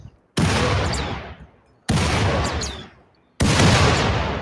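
Turret gunfire in the RimWorld video game, three loud separate bursts of rapid shots, each cutting in sharply and trailing off over about a second.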